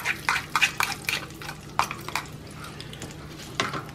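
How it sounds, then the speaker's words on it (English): Beaten eggs poured into a hot greased skillet, giving a burst of soft sizzling and liquid spatter with short clicking stir sounds, fairly faint and close with no talking. "We'll go ahead and pour our eggs in."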